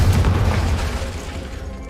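A spell bursts in the Hogwarts Legacy video game with a single loud, booming explosion that quickly decays into a rumbling tail.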